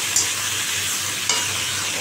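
Onion fritters fry in a pan with a steady, close, bright sizzling hiss, broken by two brief clicks from a utensil, with no talking.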